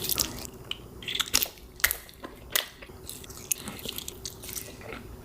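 Biting and chewing into a giant Sour Patch Kid candy, close and crisp, with a string of sharp squishy crunches and wet mouth sounds recurring at an uneven pace with no talking.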